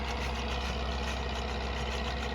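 A small, underpowered tractor engine idles with an even, continuous low rumble at moderate distance, steady and unchanging, with no voices.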